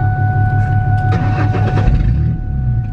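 A car does a burnout, its engine roaring loud and close in a sustained, steady blast that eases off slightly near the end.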